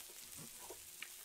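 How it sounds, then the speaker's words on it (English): Food frying in a Roblox Bloxburg cooking scene, a faint soft hiss with a few tiny crackles over quiet background for a brief moment. "Yeah, it's totally just frying."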